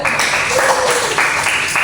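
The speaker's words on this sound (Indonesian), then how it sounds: "Kita beri tepuk tangan untuk kelompok 2" Students in a classroom applaud a presenting group with a short burst of steady clapping that lasts about two seconds.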